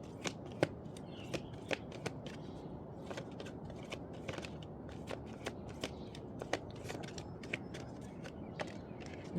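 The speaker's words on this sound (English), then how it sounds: "I'm gonna get one more message from the angel cards." Angel cards being shuffled make repeated crisp riffling snaps at an uneven, quick rhythm, close and fairly quiet, with no talking.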